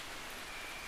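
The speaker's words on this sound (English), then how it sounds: "it's raining again tonight. It's so nice. This rain is so wonderful." Steady rain falls at night as a continuous, even hiss of drops, soft and diffuse, with no voices.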